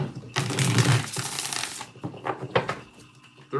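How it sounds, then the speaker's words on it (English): Tarot cards riffle and slap together in a quick shuffle, followed by a few softer taps and shuffling sounds nearby. "Let's get 5 shuffles."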